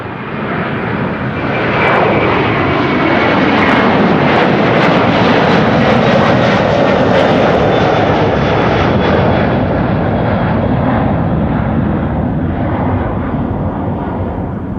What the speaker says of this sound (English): But it is an Airbus A330.